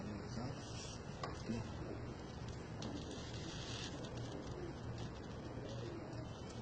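Domestic pigeons kept on a rooftop in Pakistan, soft cooing barely rising above a steady, hissing wash of rain-like background noise throughout.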